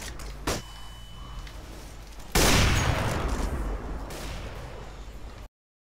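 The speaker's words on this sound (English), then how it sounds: "Deploying flashbang." A flashbang grenade detonating in a video game, a sudden loud bang with a hissing, ringing wash that lingers for about three seconds before cutting off, preceded by a brief sharp pop and low background noise.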